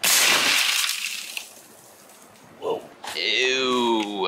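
A subsonic rifle round strikes homemade armored glass with a sharp crack that rings out and decays over about a second, followed by a short rustle and then someone talking.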